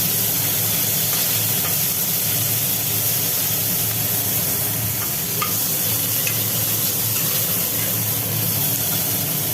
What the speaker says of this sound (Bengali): চিংড়ি ছেড়ে দেওয়া হলো এইগুলোকে একটু ভাজি ভাজি করা হবে